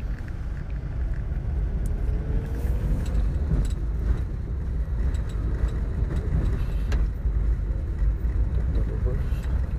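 A manual car accelerates along a road in light drizzle, its engine a low, steady rumble heard from inside the cabin with tire and road noise, while people occasionally talk.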